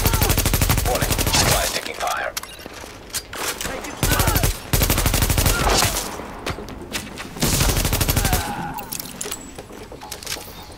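Sustained bursts of automatic gunfire in the video game Tom Clancy's The Division, loud and dense, repeating in several long volleys with brief gaps between them.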